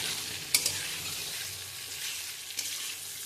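Potatoes and spice paste sautéing in a pan for a Bengali paneer kosha, giving a steady soft sizzle with stirring scrapes and a couple of brief clacks; no talking.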